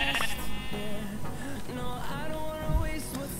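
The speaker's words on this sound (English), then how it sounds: "Oh man, there's a lot of sheep." Several sheep bleat in a Minecraft game world, overlapping wavering calls repeating close by and fairly loud throughout, with game sounds underneath.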